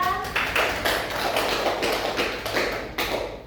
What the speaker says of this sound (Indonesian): Oke, tepuk tangan buat Cynthia